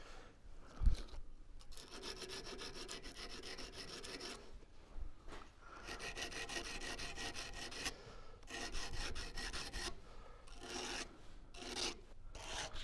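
Steady rasping strokes of a file scraping the metal of a folding knife's liner lock, repeated in bursts with short pauses between passes, close and fairly quiet, no talking.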